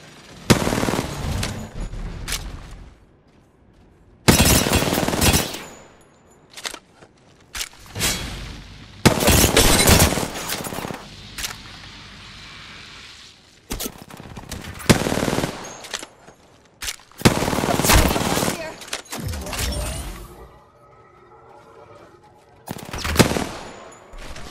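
Repeated bursts of automatic gunfire in the video game Apex Legends, loud, close rattling volleys separated by short lulls across the whole stretch, with some quieter shots in between.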